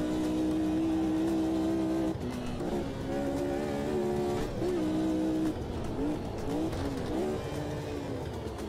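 A race car in the Automobilista 2 racing game, with its engine droning loud and steady while the pitch rises, drops and wavers as the car slides around, up close with no talking.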